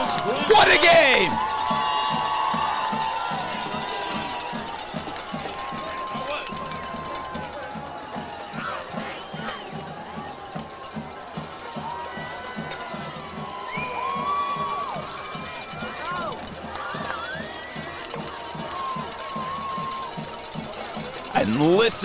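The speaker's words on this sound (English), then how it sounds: "And listen to that crowd." Crowd noise at a night high school football semifinal playoff, Morrilton Devil Dogs at Robinson Senators, a broad steady roar of fans holding through the whole stretch with a swell near the start.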